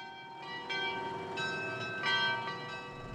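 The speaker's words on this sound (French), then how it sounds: "Avec ses 50 cloches à l'extérieur de la tour, il s'entend à des kilomètres à la ronde." Carillon bells of a belfry tower in Hauts-de-France ring in overlapping, sustained tones, struck every half second or so, moderately distant and resonant, with no speech.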